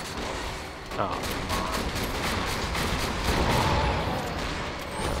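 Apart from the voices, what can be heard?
corrosive rocket launcher firing in video game Borderlands 2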